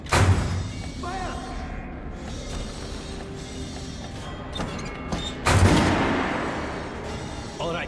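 Gunfire at a shooting range in the video game Metro Last Night: two heavy booming shots, one at the start and one a few seconds later, each trailing off, over a steady background rumble.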